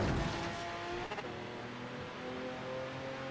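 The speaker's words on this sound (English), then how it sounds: "we are gonna have to clutch kick it to go and get that acceleration back up there, get those RPMs up" The Gurkha armored truck's engine roars and revs as it picks up speed in a racing game, a steady rising drone following an initial burst, moderately loud with no talk.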